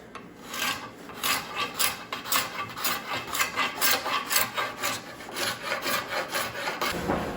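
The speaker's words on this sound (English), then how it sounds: "I'm gonna pull up my cabinet scraper to kind of clean them up, make sure they look good" A cabinet scraper works along a white oak recurve self bow in steady back-and-forth strokes. Each close, raspy scrape swells and fades in an even rhythm, with no voices over it.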